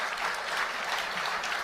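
A studio audience claps steadily for under two seconds during a political talk show segment, a dense, even patter of many hands with no voices over it.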